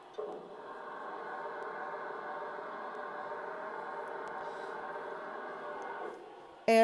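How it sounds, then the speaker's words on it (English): A steady hissing rush from the water injector of a Lionel TMCC Southern Pacific GS2 model steam locomotive runs unbroken for about six seconds, then cuts off abruptly into a short louder burst at the end. "Next, we have the water injector."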